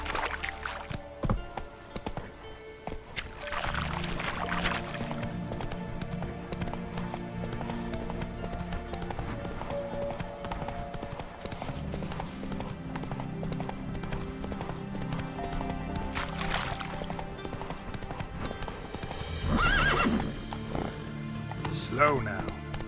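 Horse hooves trot in The Witcher 3 with a steady, close clip-clop and a brief whinny, while a voice talks over the game sounds throughout.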